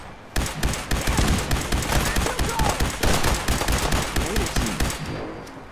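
Dense, rapid gunfire from Fallout 4's Far Harbor fights against fog creatures, a loud continuous fusillade of overlapping shots running almost without pause for several seconds.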